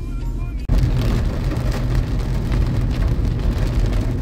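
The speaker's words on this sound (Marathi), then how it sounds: "एकदम जबरदस्त पाऊस आलेला आहे." Heavy rain pours steadily and loudly, a dense continuous wash that kicks in abruptly after a brief quieter moment, with faint traffic blended in.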